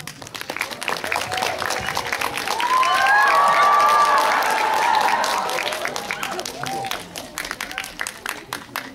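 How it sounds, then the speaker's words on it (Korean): A crowd in a cinema greets film actors arriving on stage with a big round of clapping that swells and peaks in the middle, while cheers and shouts rise above it and fade toward the end. "그러면 큰 박수로 맞아주세요."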